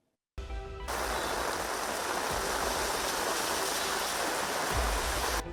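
Floodwater rushes through Bengaluru streets toward residential areas after heavy rain, a loud, unbroken roar of flowing water that starts abruptly and holds steady.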